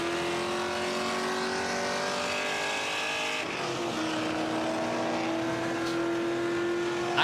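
A Mustang race car with a Coyote engine accelerates through a race, its engine droning loud and steady with a rising pitch, then a brief dip at a gear change before climbing again.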